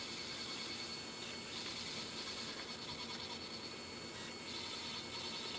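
A 3/32 end mill spinning at 9,000 RPM cuts holes in the timing case of a 30cc model engine in a home machine shop, giving a steady, dense mechanical whir that barely changes.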